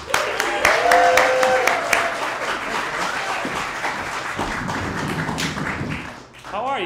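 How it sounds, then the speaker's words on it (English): Audience applause and clapping greet a stand-up comedian at a comedy show, a steady roomful of claps that swells early, holds, then fades away toward the end. "Please give a big round of applause for half of the Walsh brothers"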